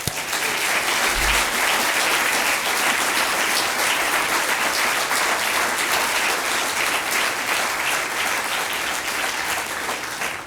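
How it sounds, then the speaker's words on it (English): An outdoor audience at a groundbreaking ceremony for a future health centre breaks into loud, sustained applause, a thick, even wash of clapping from many hands that lasts the whole stretch. "Round of applause."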